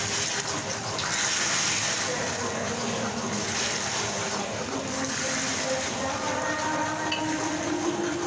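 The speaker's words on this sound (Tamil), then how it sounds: "ஆஃப் பண்ணி அப்புறம் நீங்கள் தண்ணி ஊற்றிக்கிடுங்க கொஞ்சமாக." Water pours into a hot pan, with the heat switched off, while making Tirunelveli ghee halwa, a steady, rushing hiss and bubbling that continues throughout.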